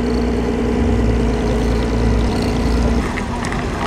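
A loud, rough vintage Indianapolis race car engine idles with a deep, steady rumble that shifts slightly near the end.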